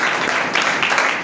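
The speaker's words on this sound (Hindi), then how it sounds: "प्रभु के लिए जोरदार ताली बजाइए" A church congregation claps loudly together in praise, a brief dense burst of many hands close by.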